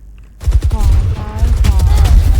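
Rapid bursts of gunfire from the tactical shooter video game Valorant, dense overlapping shots filling the clip loudly after a short quiet start, with voices talking over the action.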